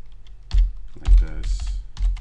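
Short bursts of clicky keystrokes on a computer keyboard as a sudo mkdir command is typed for a Raspberry Pi setup, a few quick clusters of taps, close and fairly quiet.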